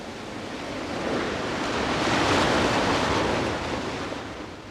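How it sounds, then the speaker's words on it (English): Waves ebbing and flowing on a shore: a broad, hissing wash of surf that swells to a peak and then slowly recedes, steady and close, with no voices. "I could make out the overtones of the waves ebbing and flowing on the shore."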